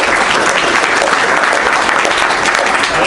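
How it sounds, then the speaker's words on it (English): Steady, dense applause from a conference audience at a 2022 Adelaide crypto event fills the whole stretch, loud and close, with no break in the clapping. "give him a little round of applause"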